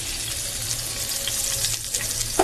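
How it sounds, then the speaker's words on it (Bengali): Potatoes go into hot spice paste made with green chillies and fry with a loud, steady hiss, rough and watery in tone. A brief clink sounds near the end. "এখন যেহেতু মশলাটা আগের থেকে গরম হয়ে গেছে, এর মধ্যে আমি এটা আলুটাকে আগে ছেড়ে দিচ্ছি।"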